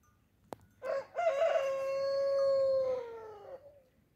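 A single rooster crows nearby at a village sheep farm, one long drawn-out call that rises and then fades, preceded by a sharp click.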